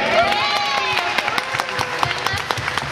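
Scattered clapping from a small audience at an outdoor atrium stage event, with broadband claps ringing out under ongoing talk and a few sharper individual claps standing out.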